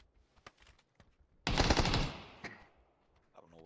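Automatic gunfire from a PUBG match on the Miramar map erupts in a loud close burst midway, preceded by a few scattered single shots and trailing into faint distant pops.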